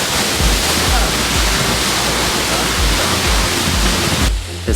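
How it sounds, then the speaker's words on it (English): A waterfall in Senaru, Lombok, Indonesia roars as a loud, steady broadband rush of falling water, close by and continuous, cutting off abruptly near the end. "This is the first waterfall."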